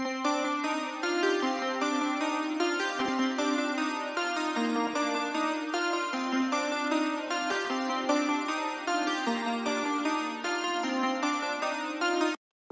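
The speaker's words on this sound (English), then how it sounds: "I went in to this hndrxx bank and I grabbed a bell sound and I drew out" A bell-sound melody from a hndrxx sound bank in FL Studio plays alone, a steady stream of bright chiming notes over about twelve seconds for a hard trap beat, with no talking.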